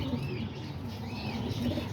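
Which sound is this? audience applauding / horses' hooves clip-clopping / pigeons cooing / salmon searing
pigeons cooing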